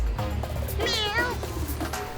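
A person imitates a cat's meow: one drawn-out, wavering nasal mew with rising and falling pitch, clear over a low background hum.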